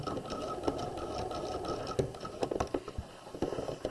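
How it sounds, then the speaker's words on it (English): A sewing machine back stitching at the end of a pajama pants seam, its needle chattering in a quick rapid rhythm with small pauses and shifts, close and fairly quiet with no talk. "Get to the end, back stitch."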